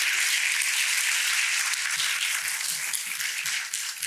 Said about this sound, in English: Give Lawrence a round of applause for helping me out.